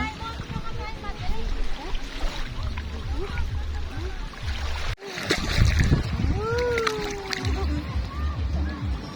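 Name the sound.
water splashing at the sea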